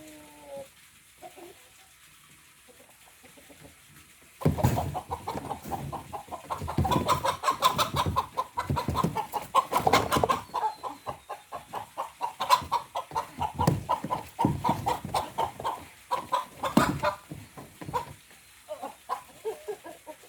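Several chickens cluck and squawk loudly up close while being moved, an agitated burst of rapid calls that rises suddenly and keeps going before easing off.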